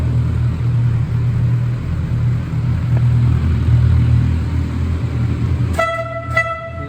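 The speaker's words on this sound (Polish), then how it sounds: "klakson dołożony" Over a steady engine rumble from a 2008 Suzuki GSF 650 Bandit S motorcycle, an add-on horn gives two short honks near the end.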